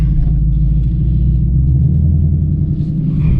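A boosted 2021 Ford Mustang Mach 1 rolls down the road, its engine giving a steady, deep, loud rumble from inside the car with no one speaking.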